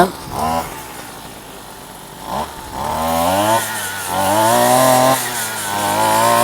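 Brush cutter fitted with a blade being started: a couple of short pull-start coughs, then the small two-stroke engine catches and runs with revving, rising whine, while someone talks over it nearby.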